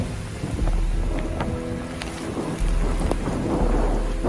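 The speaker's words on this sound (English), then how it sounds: "I've never seen rain like this." Heavy rain pours steadily during a flood, with low rumbles of thunder rolling through at close range; the downpour stays loud and continuous throughout, with no voices.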